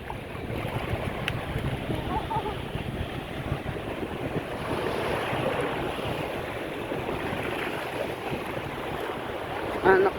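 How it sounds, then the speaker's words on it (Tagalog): Fairly large ocean waves wash in at a beach, a steady close roar of surf and churning water throughout, with faint voices underneath. "Medyo malaki-laki yung alon"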